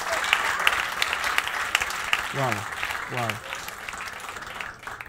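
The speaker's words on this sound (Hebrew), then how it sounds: "כפיים לכם, הלאה." Audience applause breaks out after a number-guessing trick, a burst of clapping from a room of people with an excited voice exclaiming over it and speech around.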